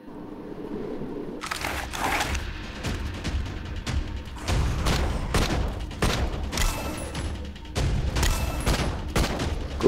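Rapid bursts of gunfire from weapons shooting zombies in the survival shooter game Left To Survive, with repeated loud volleys and booms coming in clusters throughout, no talking.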